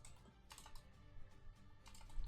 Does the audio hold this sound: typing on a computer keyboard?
yes